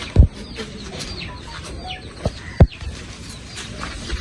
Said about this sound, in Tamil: நீங்க வளர்க்குற கோழியா?